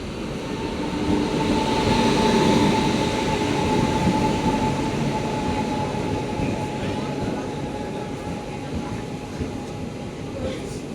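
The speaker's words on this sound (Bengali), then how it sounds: "ফাইনালি ট্রেন আসলো।" A train arrives at a station after a long delay, a loud steady rumble of wheels and carriages with a faint squeal, rolling on continuously while people talk in the background.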